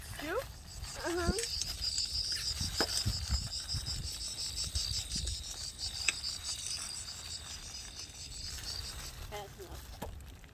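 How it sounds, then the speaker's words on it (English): Steady cricket chirping fills a campsite at night, a dense continuous trill running under a child's and parents' voices throughout. "You hear those crickets too?"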